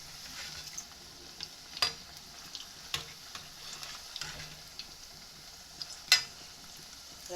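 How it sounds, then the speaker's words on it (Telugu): Onion pakodas frying in oil, a quiet continuous crackle with occasional louder pops and a clink of a utensil, no talk over it. "ఫ్రై అవుతున్నాయి"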